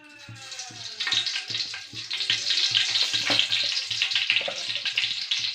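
Mustard seeds fry in hot oil in a pan for a village-style fish kuzhambu, making a continuous bright sizzle and crackle that swells after the first second, with a repeating low tonal pattern underneath.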